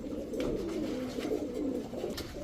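A pair of Chuithal Khoyra Gola pigeons coo softly in low, repeated rolling calls, close by and steady, with no talk.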